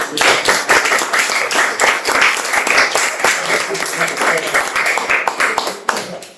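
Sustained applause from an audience at an astronomy talk, dense steady clapping filling the whole stretch before tapering off near the end.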